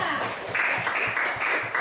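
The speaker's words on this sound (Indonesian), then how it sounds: "kita berikan tepuk tangan untuk Arga" An audience at a Catholic college in Merauke claps for a student, brisk rhythmic applause in a few bursts with some speech mixed in.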